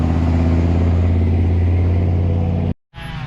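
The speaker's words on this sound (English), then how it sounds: "I think I'll wait for the truck." A truck rumbles by on a trail, a loud, close, steady low engine drone that cuts off abruptly near the end and briefly returns.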